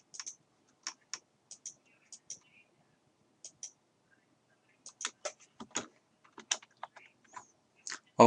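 Bursts of keystrokes on a computer keyboard in an office, arriving in short irregular clusters separated by pauses, close and fairly quiet with no talking over them.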